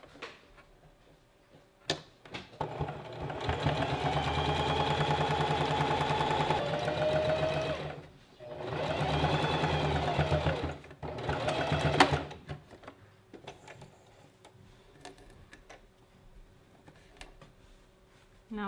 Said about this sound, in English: I'm just going to fold it over once and stitch over the top of it